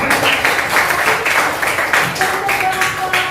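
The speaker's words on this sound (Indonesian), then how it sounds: "Oke, kasih tepukan buat kelompok" Classroom students clap for a group, a continuous loud patter of many hands with voices and a faint tone mixed in underneath.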